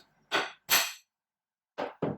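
Four sharp knocks, two close together, a pause, then two more, each a solid wooden mallet strike driving a holdfast into a workbench hole.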